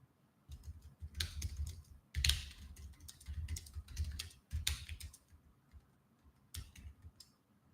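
Fingers tap on a computer keyboard in short bursts of rapid clicks separated by brief pauses, close and fairly quiet, with no voices.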